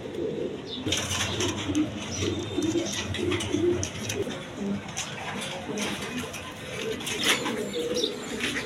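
Peshawari pigeons kept in pairs with eggs and chicks coo in a continuous low murmur close by, with occasional chirps and someone talking over them.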